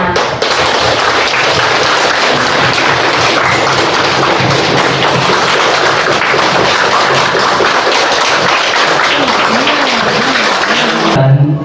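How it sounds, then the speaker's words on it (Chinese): An audience claps steadily and loudly for a sustained stretch after a Buddhist lecture given by a visiting Fo Guang Shan master, dense applause filling the room with no talk. "我们再一次鼓掌"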